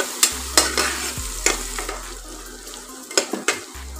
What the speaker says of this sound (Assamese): আৰু এইখিনি মই একেবাৰে কেঁচা কেঁচা গোন্ধটো যোৱালৈকে এইখিনি মই ভাজি ল'লোঁ